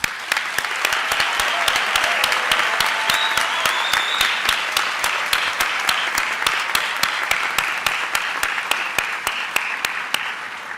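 An audience at a pharmacy school hooding ceremony gives a sustained round of applause, many hands clapping in a steady, even wash with sharp individual claps standing out, loud and continuous for about ten seconds.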